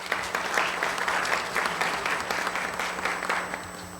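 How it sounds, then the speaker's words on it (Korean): Attendees at a fair-trade compliance symposium applaud as a presenter is welcomed to the stage, with continuous, moderately loud clapping from a seated crowd and a faint steady hum beneath. "자, 그러면 박수로 무대로 모시겠습니다."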